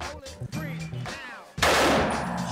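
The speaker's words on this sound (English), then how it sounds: "Shooting off this M30 here, and this is the bullet." An M30 gun fires at a shooting range in Cambodia, a loud close blast that cuts in abruptly and leaves a long noisy ring, preceded by rumbling background noise.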